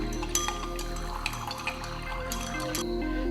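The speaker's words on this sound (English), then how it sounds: "while adding water from the wash bottle" Water squirts from a laboratory wash bottle into a sodium carbonate solution being stirred with a glass rod, a quiet liquid trickle and splash joined by a few light glass clinks, close and soft.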